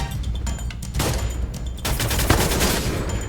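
Rapid gunfire in a video game, dense overlapping shots in a continuous loud volley that grows more intense after a second, with no talk.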